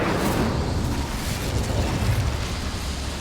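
A fire spell cast in the Hogwarts Legacy video game, heard as a loud, roaring burst of flame that holds as a dense, rumbling whoosh for about three seconds with no voices.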